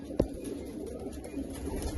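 A desi-breed breeder pigeon coos in low, soft rolling murmurs after a brief sharp knock near the start, heard fairly close with no speech.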